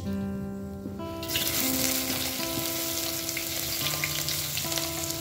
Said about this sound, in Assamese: এতিয়া গৰম তেলত মই কালি জিৰা ঢালি দিছো আৰু দি দিছো পিয়াজখিনি